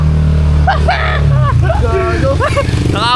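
A motorcycle engine strains while stalling in floodwater during a typhoon, a loud uneven rumble with revving, and several people's voices talking and shouting over it.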